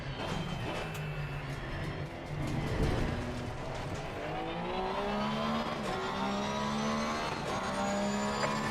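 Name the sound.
race cars driving in Spa racing video game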